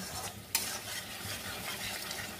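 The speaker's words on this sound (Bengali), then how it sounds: "যেহেতু রসুন আছে এর মধ্যে, একটু ভালো করে না কষালে কিন্তু হবে না।" A garlicky spice paste is stirred and fried in a pan while cooking a jackfruit dish: a soft, continuous sizzle with scraping spatula strokes and one sharp metallic clink near the start.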